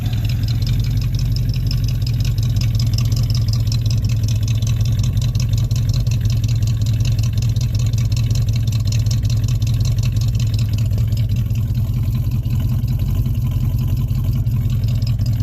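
A 1967 Chevelle engine idles with a deep, steady exhaust rumble through possible exhaust leaks, loud and close, continuous throughout with no voices.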